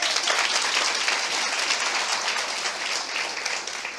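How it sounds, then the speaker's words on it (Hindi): An audience at a Christian worship gathering applauds for Gaurang, a dense, steady wash of many hands clapping together for several seconds at even loudness. "आई गौरंग के लिए ताली बजाएंगे"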